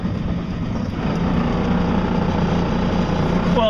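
Electric outboard motor on a solar-powered boat running with a new propeller at medium speed, a steady continuous hum with water and wind noise, constant level throughout.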